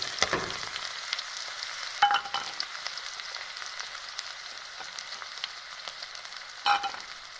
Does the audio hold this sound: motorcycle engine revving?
no